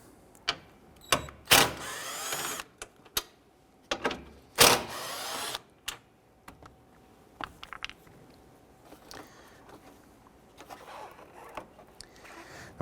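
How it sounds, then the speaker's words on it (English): A ratchet with a 10mm socket works loose two bolts holding the intake tube on a 2012-2017 Toyota Camry, with bursts of quick ratcheting clicks, a few sharp metallic taps and quieter handling noise in between. "Using a 10mm socket, we're going to remove the two bolts right here holding our intake tube."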